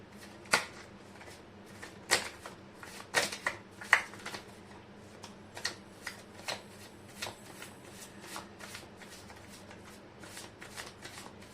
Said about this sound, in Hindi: कर लेती हूँ कार्ड की शफलिंग।